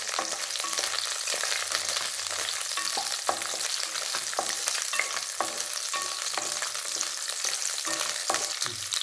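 Green chilies crackle steadily in hot oil, a dense, close spatter of pops and hiss that never lets up.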